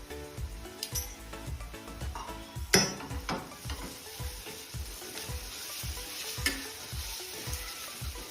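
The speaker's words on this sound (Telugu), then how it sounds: "కాస్తంత పచ్చిమిర్చి, జింజర్ గార్లిక్ పేస్ట్ని వేసుకొని ఫ్రై చేసుకోవాలి" Green chillies and ginger garlic paste frying in a pan for egg curry, a soft steady sizzle with regular scraping stirs and occasional clinks of a spoon against the pan, close and quiet.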